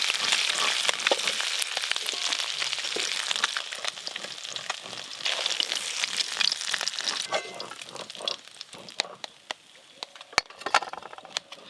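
Small fish frying in oil in a pan for a home-style spicy small-fish dish, a steady close crackling sizzle with scattered pops that thins slightly toward the end.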